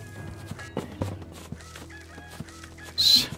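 A chicken in the strategy game Empires Apart clucks in short, repeated calls over quiet game ambience, followed near the end by a louder burst.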